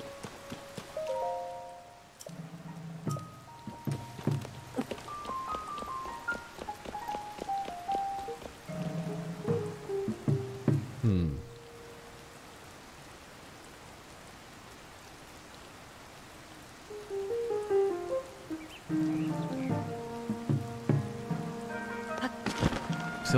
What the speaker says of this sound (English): It's been raining forever.